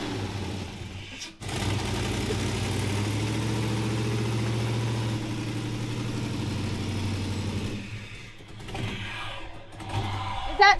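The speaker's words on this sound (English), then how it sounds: "if the engine starts but is idling too low and appears to be struggling for air" A 1957 Chevrolet engine idles with a low, uneven rumble that runs steadily for several seconds, then falters and cuts out amid clunks and shuffling.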